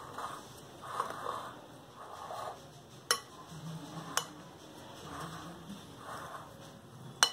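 Spices for a stuffed red chilli pickle (laal mirch ka bharwa achaar) are stirred together in a bowl. There are soft, rhythmic scraping swishes and several sharp clicks of a spoon against the dish, all fairly quiet.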